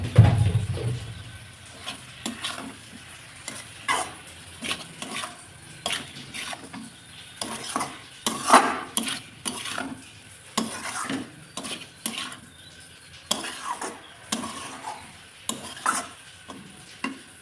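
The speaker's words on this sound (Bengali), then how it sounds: "অল্প চিনি দিয়ে কষাবো এবারেতে আলুগুলো" Potatoes sauté with a little sugar in a pan, a spatula scraping and stirring in rhythmic strokes roughly every second. A soft sizzle runs underneath.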